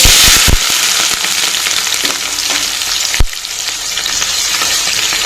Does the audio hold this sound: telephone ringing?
no